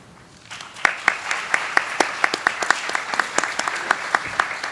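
An audience applauds panelists at the close of a morning panel discussion on the biosciences and pharma industry in West Virginia, with steady, loud clapping and sharp individual claps standing out throughout.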